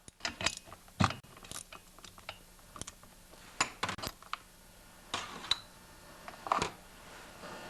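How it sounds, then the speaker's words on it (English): A spark plug wrench loosens the spark plug on a Stihl MS192T chainsaw, giving sparse clicks, ratcheting ticks and light metallic taps, close and quiet with pauses between them. "Next, you need your spark plug wrench."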